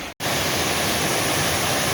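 Waterfall on the Foothills Trail, at the second tier of an upper falls section, roars as a steady, loud broadband rush that fills the scene after a brief dropout at the start.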